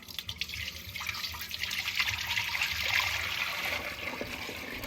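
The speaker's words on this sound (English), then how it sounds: "Now we're just going to strain it like always through our cheesecloth and our mesh colander" Maple sap is poured from a 7-gallon pot through cheesecloth and a mesh colander, a continuous close splashing trickle of liquid that swells slightly and stays steady throughout.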